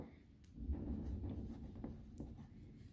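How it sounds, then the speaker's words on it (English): Pen writing a word on paper, a soft close scratching and rubbing for a few seconds, quiet and alone. "So let's write cylinder over here."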